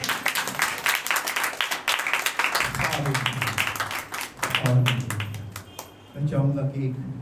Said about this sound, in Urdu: کلام کے لیے زوردار تالی بجائیے گا